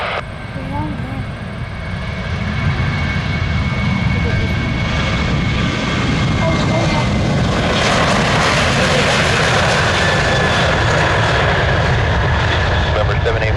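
An airplane lands at Ford Airport in Grand Rapids, and its engines build into a loud, steady roar that swells and holds close by as tower radio talk runs underneath.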